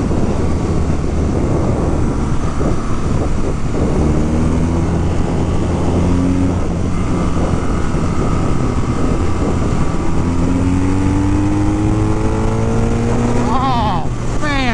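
A 2022 BMW R nineT motorcycle being ridden, its engine droning loud and steady with rising and falling pitch as it shifts through gears, wind rush throughout and a voice talking over the ride.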